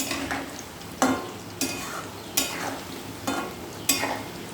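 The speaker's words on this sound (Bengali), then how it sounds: "আস্তে জালে ভাজতে হবে, তাহলে ভাজাটা ভালো হবে।" Food frying gently in oil over low heat, a steady soft sizzle punctuated by regular scraping stirs roughly every second, close and moderately loud with no talking.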